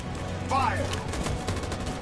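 Gunfire in the video game Detroit: Become Human, a burst of shots spread through a dense, busy game soundscape with a voice briefly rising over the din.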